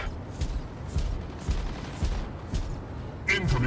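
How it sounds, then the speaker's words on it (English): Gunfire in the Mech Arena video game: loud rapid bursts repeat about twice a second in a steady rhythm, ending in a heavier volley. "Incoming fire."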